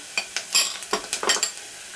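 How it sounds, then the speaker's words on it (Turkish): Onions frying with pepper paste in a pan, stirred in quick scraping strokes over a soft, steady sizzle. The strokes come close and fairly loud, with no talking. "Şimdi soğanımızı kavuralım."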